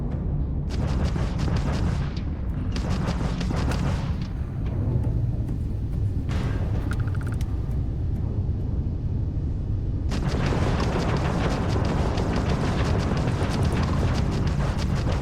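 Weapons fire and explosions from the video game Starfield form a loud, dense, continuous roar of booms and blasts. Sharp bursts come in clusters through the middle, followed by a sustained heavy barrage with no talking.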